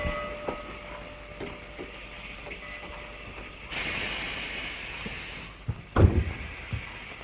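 A passenger train runs with a low, steady rumble heard at moderate distance, then a louder clunk and rattle near the end, like a car door or coupling, with no talking.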